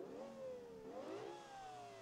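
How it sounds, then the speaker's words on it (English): High-revving V10 engine of the Shadow 105 car in BeamNG Drive, climbing in pitch, dropping briefly with a gear change, then winding up again in a smooth, loud whine, with no talk. "Very, very high revving V10."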